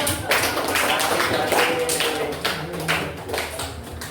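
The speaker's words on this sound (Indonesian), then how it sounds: "Tepuk tangan dulu." Classroom applause from students during a lesson, uneven claps and taps at close range that come in loose clusters for several seconds, fading slightly toward the end.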